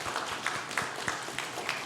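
Church congregation clapping at a Sunday worship service, giving rhythmic, fairly regular claps at a moderate level with a roomy, diffuse sound and no voices over them.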